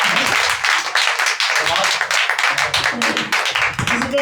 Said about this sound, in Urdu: پاسٹر صاحب کے لیے زوردار تالیاں